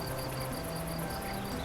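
Steady cricket chorus from the New City video game, rhythmic high chirping repeating evenly throughout, fairly loud and unbroken, with a soft low ambient bed and no talking.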